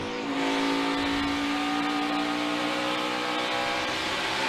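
NASCAR Cup Series stock cars on the final lap, a sustained loud roar of engines at high revs with layered droning tones, no talk.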